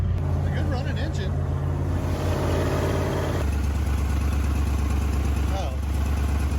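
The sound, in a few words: 1966 Chevy Nova II engine running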